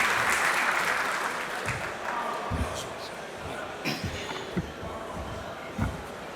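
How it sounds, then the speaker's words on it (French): Audience applause at an opening ceremony, a broad burst of clapping that fades to scattered claps, with some speech and crowd murmur mixed in. "Sous vos applaudissements, s'il vous plaît."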